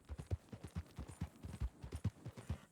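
Horse hooves clip-clop in a steady walking rhythm in Red Dead Redemption, as a rider travels on a borrowed horse; the hoofbeats are close, fairly soft and alone, with no talk.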